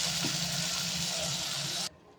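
Pressure-cooked green gram (moong beans), done through five or six cooker whistles, poured out in a steady wet, splashing gush that runs for nearly two seconds and then cuts off sharply.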